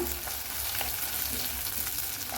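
Steady crackling sizzle of shallots and curry leaves frying in a pan with oil, close and continuous, with no talking.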